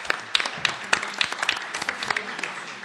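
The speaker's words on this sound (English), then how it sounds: "Let's give them a hand of applause" A small group claps their hands, a scattered irregular patter of applause, fairly close, lasting a few seconds.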